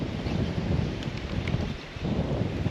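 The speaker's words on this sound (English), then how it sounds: "This wind is blowing out and this really has things moving" Strong wind, about 15 mph, gusts across a coastal waterway lined with cypress banks, a steady broadband rush with microphone buffeting that dips briefly near the end before surging back.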